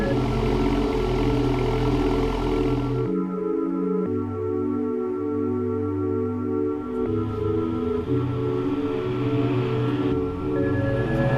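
The engine of a Toyota Aygo Crazy, a modified Aygo with a roll cage, runs with a steady, loud drone that shifts pitch and tone a few times.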